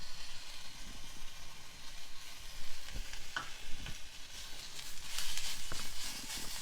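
Grated bottle gourd and chopped tomato frying in a pan for chutney, a steady close sizzle broken by occasional stirring scrapes and soft spatters.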